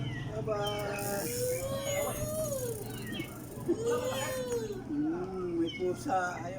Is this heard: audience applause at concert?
no